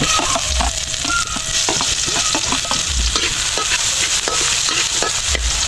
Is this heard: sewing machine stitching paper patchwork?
no